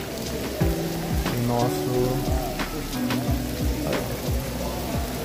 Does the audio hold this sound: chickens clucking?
no